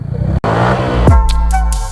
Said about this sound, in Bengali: এখন আস্তে আস্তে থ্রটল দেন।